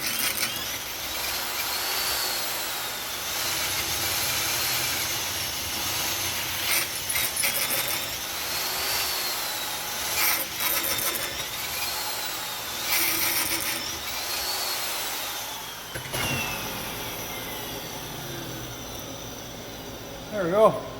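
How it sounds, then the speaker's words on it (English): Drilling out threaded holes in a custom driveshaft so a bolt can pass through, a steady whining power-drill drone running for about sixteen seconds with rising and falling pitch, followed by quieter mechanical clatter. "so I'll drill them out."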